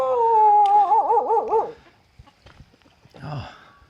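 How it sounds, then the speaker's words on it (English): A dog near a traditional Balinese house gives a long wavering howl, followed by quieter whimpering yips at moderate distance with no talk. "There we go, there's a dog here."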